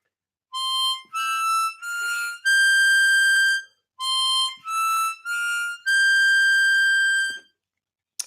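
A harmonica plays a practice melody phrase as a series of about eight clear, sustained reedy notes in two groups. The notes are separated by short gaps and the last note of each group is held longer. It is close and solo.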